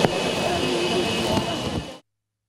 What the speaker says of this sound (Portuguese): O avião decolou no início da tarde desta quarta-feira.